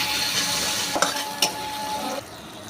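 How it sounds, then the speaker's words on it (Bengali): Tomatoes going into a pan of browned ginger-garlic paste for an egg curry: a loud, continuous sizzle close by, broken by a few light knocks and scrapes of stirring. "এবার দিয়ে দেবো টমেটো।"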